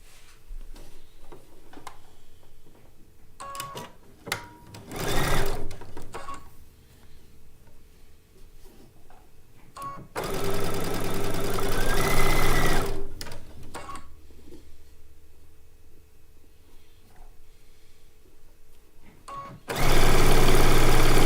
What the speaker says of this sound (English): this is going to get sewn on right here.